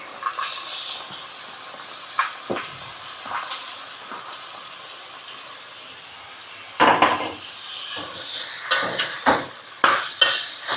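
Chopped cucumber and tomatoes go into a cooking pan, heard as close clatters of utensils against metal, scattered thuds and scrapes over a low hiss, growing busier toward the end.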